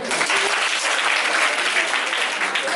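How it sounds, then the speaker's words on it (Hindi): Dense applause from a crowd at a theatre play performance, loud and continuous from start to finish. "तालियां बजाओ।"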